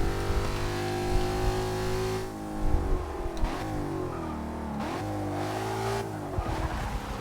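A 5.0 V8 muscle car engine revs and rises in pitch, dips, then climbs again, a deep throaty roar heard up close.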